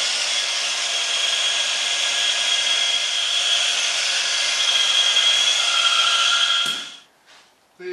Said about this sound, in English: The Harbor Freight 2-inch orbital.